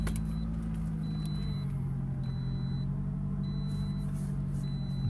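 A 2017 Toyota RAV4 LE AWD engine idles close by with a steady low rumble, while a repeating electronic chime beeps at regular intervals over it.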